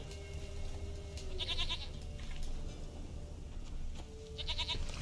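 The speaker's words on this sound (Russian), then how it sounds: "Где ты, коза?" A goat bleats in The Witcher 3 video game, two wavering mid-distance bleats about three seconds apart over a constant low ambient game rumble.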